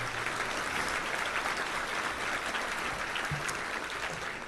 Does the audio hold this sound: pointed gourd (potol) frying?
no